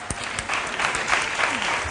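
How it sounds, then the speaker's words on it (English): Brief burst of audience applause at a school quiz championship, steady clapping throughout two seconds. "A round of applause."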